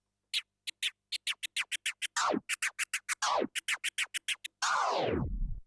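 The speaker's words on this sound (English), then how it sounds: "a very popular scratch technique called the chirp scratch" Quick turntable chirp scratches chirp in a rapid, choppy rhythm, with a few longer swooping sweeps mixed in; no voices.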